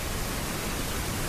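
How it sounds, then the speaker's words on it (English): Steady white noise from a sleep sound product, a dense, even hiss that continues unchanged and alone for the whole brief stretch. "the biggest ones right here are these ones here, white noise. That's what we're hearing right now."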